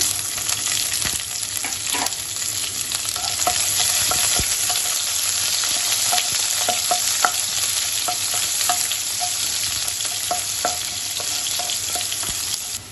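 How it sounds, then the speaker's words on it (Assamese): Chopped onion with five-spice sizzles steadily in hot oil for a fish curry, a loud, close, continuous frying hiss broken by scattered pops and the scrape of a stirring spoon, with no talking. "এতিয়া কাটি থকা পিঁয়াজটো দি দিম।"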